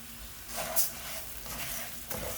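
Risotto rice hits a pan with garlic and onion for saffron risotto, giving a soft steady sizzle with a few brief stirring scrapes and light clinks.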